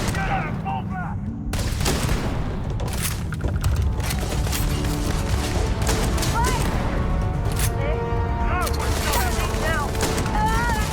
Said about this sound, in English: double barrel shotguns never go out of style.